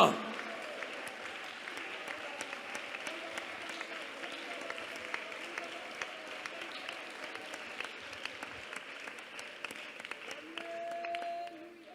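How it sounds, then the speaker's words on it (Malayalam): A congregation at a Pentecostal prayer meeting claps hands in praise, a dense and steady patter of many palms that keeps up for about eleven seconds before fading, with faint voices underneath. "കൈയടിച്ച് സ്തോത്രം പറ"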